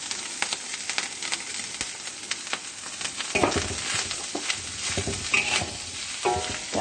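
Rice stir-fried in a pan with beans for spicy tuna fried rice, a bright steady sizzle with rapid scraping stirs that grows louder and fuller partway through, close by and with no talking.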